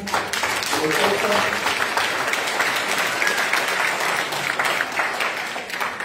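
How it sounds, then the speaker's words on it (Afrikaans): A church congregation claps and applauds at a Sunday evening service, a dense, sustained wash of many hands clapping at close range, with some voices mixed in under the applause. "Gee vir ons lekker hande klap man."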